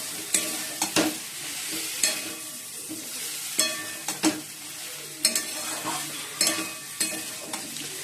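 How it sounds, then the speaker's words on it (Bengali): Okra and potatoes frying in a pan on a home stove, a steady sizzle punctuated by sharp scraping and clanking strokes of a spatula stirring the vegetables at irregular intervals. "ঢ্যাঁড়সটা একটু ভেজে নিলে পরে না, তাহলে ঝোলটা পিছলা পিছলা হয় না"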